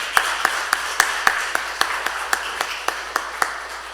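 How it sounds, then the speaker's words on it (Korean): Steady rhythmic clapping rings out from a church congregation at an evening revival worship meeting, sharp claps falling at an even, brisk tempo over quiet room tone. "우리 하나님께 영광의 박수 올려드리겠습니다"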